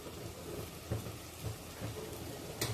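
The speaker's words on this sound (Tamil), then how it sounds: "பொடியாக கட் பண்ணி வச்சிருக்க வெங்காயத்தை சேர்த்துக்கலாம் வெங்காயத்தை சேர்த்துட்டு அது கூட கொஞ்சம் கல் உப்பு சேர்த்துக்கலாம்" Chopped onions with rock salt sizzling in a pan, a steady faint crackling hiss with a few louder pops.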